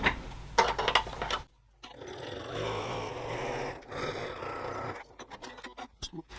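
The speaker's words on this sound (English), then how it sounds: "I'll stitch along that with a 1 centimetre or 3/8 of an inch seam allowance" A sewing machine stitches a long fabric seam on a zipper tote, running steadily for a few seconds after some brief handling clicks, then stopping amid light rustling.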